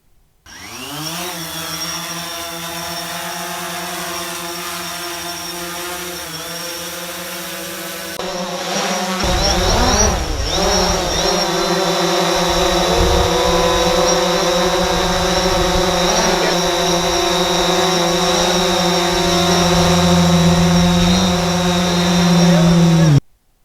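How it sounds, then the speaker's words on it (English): Drone takeoff sound plays as a loud, steady whine that rises sharply in pitch when the rotors spin up to full power, then holds a dense, buzzing roar. "overlay that with some drone noises just to add some realism"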